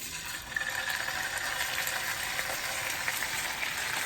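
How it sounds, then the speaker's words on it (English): Fish fillets sizzling in about two tablespoons of hot olive oil: a steady, close frying hiss that holds at even loudness, with no talk. "So I have about 2 tablespoons of olive oil, and then you have the fillets. You're gonna drop them in"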